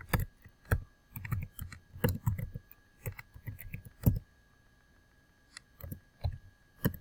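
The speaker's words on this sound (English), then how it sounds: "type your name in." Someone types a name on a computer keyboard, giving bursts of close, crisp key clicks in uneven clusters separated by short pauses, with no talking.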